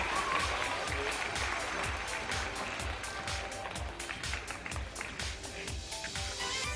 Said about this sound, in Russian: Ваши аплодисменты, дорогие зрители